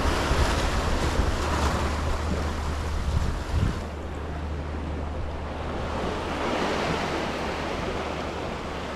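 Ocean waves break and churn close by in steady, loud surf along with heavy wind buffeting the microphone, heard from a boat trolling around while fishing; no voices.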